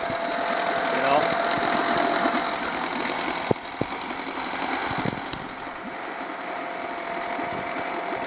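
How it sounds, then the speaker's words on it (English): A small outboard motor on a boat, running on water under a homemade Arduino Uno speed controller, chugs with a steady rattling, ticking drone throughout, with a couple of sharp clicks partway through and a voice talking over it. "Outboard motor, outboard motor."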